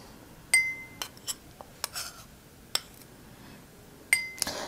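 A spoon adding ginger paste to lemon juice in a glass, heard as a handful of sharp, separate clinks and taps of metal on glass against a quiet background.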